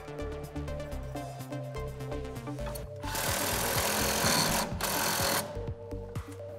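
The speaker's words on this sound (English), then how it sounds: "we'll tighten it down with our 15 socket and wrench." Tightening a strut nut with a 15 mm socket and wrench while fitting a Mammoth 3-inch front leveling kit on a 2007-2018 Chevrolet Silverado 1500: a close, fairly loud burst of rapid ratcheting clicks lasting about two seconds mid-clip.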